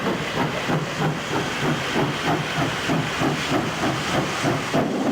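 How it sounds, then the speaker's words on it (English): Steam locomotive Pendennis Castle gathers speed onto the down fast line, quick regular exhaust beats over constant hissing steam, loud and near with no voices. "as Pendennis Castle starts to get into her stride onto the down fast line."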